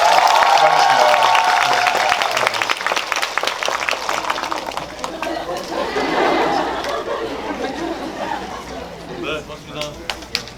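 An audience in a cinema hall applauds at a talk event for the film Money, with a wash of claps that fades gradually under lively crowd chatter and voices.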